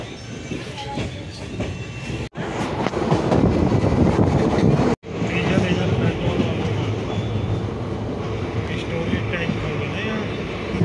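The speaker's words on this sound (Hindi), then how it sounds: "हमारी ट्रेन चल चुकी है, और हम जा रहे हैं दिल्ली को" A passenger train from Haldwani to Delhi runs at speed, heard from inside a carriage as a loud, steady rumble and rattle with faint clickety-clack and wind buffeting, broken by two brief dropouts.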